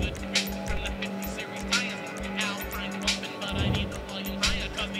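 A video-game car nicknamed the Murder Mobile drives along with a steady engine drone and some skidding, underneath men chatting over it.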